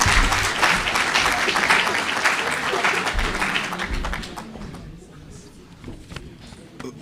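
Loud audience applause at a World Teachers Day event, a thick wash of clapping that gradually thins and fades into scattered claps and room noise.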